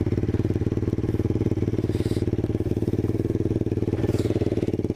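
A 2019 Apollo 125 pit bike engine idles up close with a fast, even putter and a mechanical clatter, steady and loud with no change in pace.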